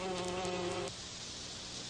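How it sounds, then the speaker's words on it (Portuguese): Honeybees buzz in a steady, close droning hum that holds evenly for about a second, then gives way to a noisier, hissing background, with no one speaking. "Estes insetos chamam-se em português abelhas."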